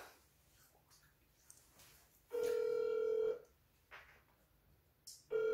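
A telephone call is placed, with a low steady ringback tone sounding twice, about a second long then starting again after a pause, over quiet room sound with small handling noises between rings.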